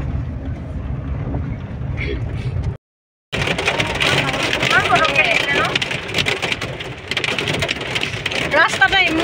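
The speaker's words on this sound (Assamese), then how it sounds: "ৰাস্তাতে ইমান ডাঙৰ বৰষুণ" Heavy rain pours onto a road in a steady, dense hiss with a brief dropout partway through, continuing loud and close while faint voices come and go underneath.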